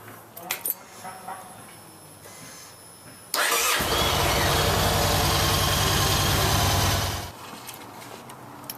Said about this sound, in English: next we're going to start and warm up our bike